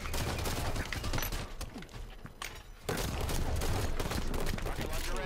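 Dense, loud gunfire in the Halo 5 multiplayer video game, rapid bursts of shots with a brief lull before firing resumes, and a player's voice under the game audio.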